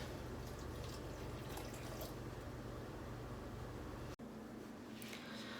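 Salted water pours steadily into a bowl of carrot mixture for fermenting, a constant trickling splash with a brief break near the end.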